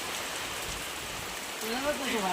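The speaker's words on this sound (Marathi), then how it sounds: "पाऊस आला ना पाऊस आला ना" Steady rain pours down as a broad hiss, with a voice speaking over it toward the end.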